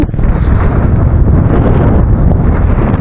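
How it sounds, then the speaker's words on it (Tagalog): Strong wind on a rocky shore in the Philippines, loudly buffeting the microphone in a constant heavy roar with no other sounds or voices. "mahangin nga lang"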